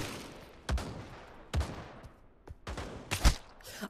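Gunfire in the VR shooter game Pavlov: a few sharp, loud shots spaced apart, then a tight cluster of rapid bursts near the end, with faint noise between.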